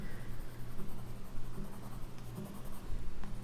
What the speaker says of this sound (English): my colored pencil use is like scribbles